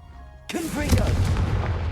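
A sudden, loud, booming blast from the Confringo spell in the Hogwarts Legacy game erupts and rumbles on, with a voice speaking through the explosion.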